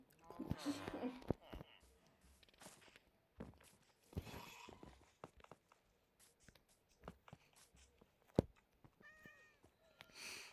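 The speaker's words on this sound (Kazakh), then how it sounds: "Мысықтың дауысы шықты. Бірақ өзі жоқ." Minecraft cat meows sound over game footsteps and clicks. A short run of meows comes near the end, with voices talking quietly at times.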